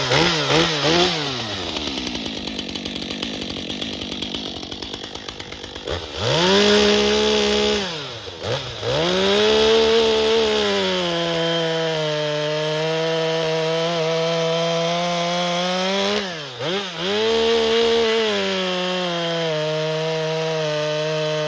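A Stihl MS 400 C chainsaw fitted with a Sugihara guide bar, .325 rim and Husqvarna C35 .325 1.5mm chisel chain cuts through wood, loud and steady, engine note dipping and bogging under load twice between revving passes.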